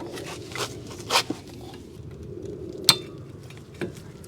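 A brake pad is worked into the front caliper bracket of a 2015 Toyota RAV4 XLE AWD, giving a few sharp metallic clinks and scrapes spaced over a few seconds, close up against a quiet background.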